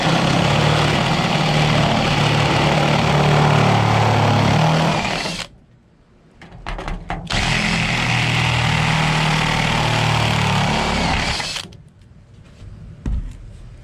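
A loud, steady grinding whine of a dull step drill bit boring into thin sheet metal, pausing twice briefly before resuming, with no voices.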